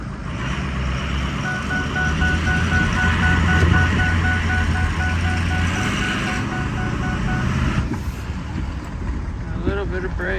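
An old one-ton truck with no tail lights and partial power steering rumbles on its first drive after restoration. Its steady, close engine drone continues throughout, mixed with wind buffeting.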